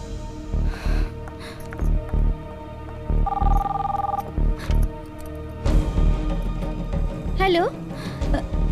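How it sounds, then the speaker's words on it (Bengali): A telephone rings once in a short electronic burst, surrounded by people talking and background music. "কার ফোন সুজাতা?"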